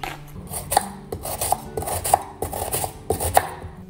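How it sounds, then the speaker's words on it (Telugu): Medium onions are chopped with a knife on a board for mutton kheema, a close, steady rhythm of crisp cuts with sharp knife strikes roughly every half second, no voices. "సో ఫస్ట్ అయితే ఉల్లిపాయలు కోసేసుకుందాం."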